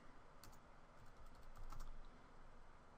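Fingers type on a computer keyboard while text is entered into a glossary page: soft, quick key clicks in short bursts, close and quiet, with no talk.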